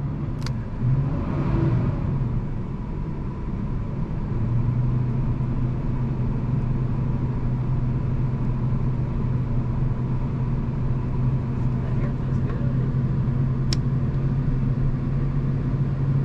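An RV engine runs steadily with the gas held down, a loud, continuous low rumble lasting throughout with a brief rise in revs near the start and no talking.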